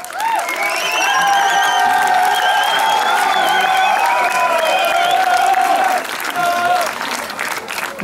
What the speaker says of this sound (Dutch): Applaus voor Jill!